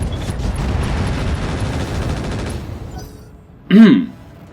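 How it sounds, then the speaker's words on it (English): Mech in the MechWarrior video game firing all its weapons, machine guns included: a long rattling stream of rapid automatic fire, then a sharp heavy burst near the end. "So I'm not even going to go all in with machine guns. Firing all weapons."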